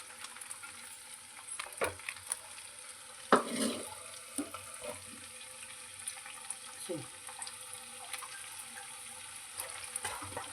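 Sabudana vada, tapioca pearl fritters, frying in hot oil in a home kitchen, giving a steady, soft sizzle with scattered crackles and pops, plus a few sharper clicks of utensils.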